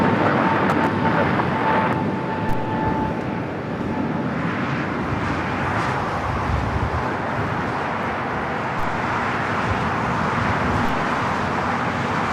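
A Finnair Airbus A350 taxis at LAX, its engines giving a steady, moderately loud rumble and whine mixed with distant airport and road noise.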